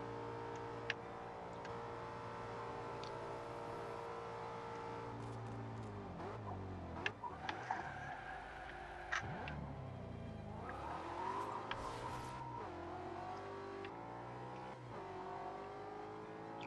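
Audi RS5 Coupe engine in Forza Horizon 2, a steady drone that dips and climbs through shifts mid-clip, with brief tyre squeals, heard alone without talk.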